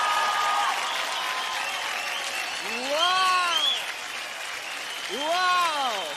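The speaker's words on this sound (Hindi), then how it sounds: "स्टैंडिंग ओवेशन नहीं ये तो स्टेज का जोरदार तालियां हो जाए" Studio audience on the Indian Idol singing show rising in a standing ovation: loud, sustained clapping across the room, with rising whoops and cheers swelling twice over the applause.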